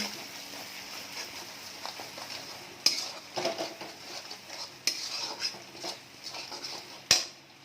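A metal spatula stirs and scrapes a pan as fish masala with salt is sautéed for an arr fish curry, with soft sizzling underneath and sharp, intermittent clinks of utensil against the pan.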